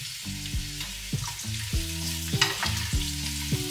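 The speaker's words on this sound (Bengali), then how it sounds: "তো এগুলো ফ্রাই হওয়ার পর এবার ঝিঙেটা অ্যাড করছি।" Ridge gourd, papaya and potato frying in a pan, with a soft continuous sizzle and repeated clanks and scrapes of a spatula against the pan.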